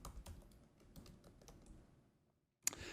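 Keys on a computer keyboard tapped in a quick run of clicks while a password is entered, several keystrokes spaced unevenly and fairly close, then a short pause and one sharp final keypress.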